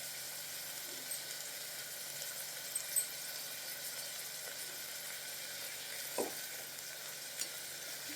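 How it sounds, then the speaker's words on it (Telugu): Onions and green chillies fry in a pan with curry leaves for a brinjal and drumstick pulusu: a steady, fairly quiet sizzle with occasional soft stirring clicks, no talk. "ఒక 5 నిమిషాలు ఫ్రై చేసుకోండి."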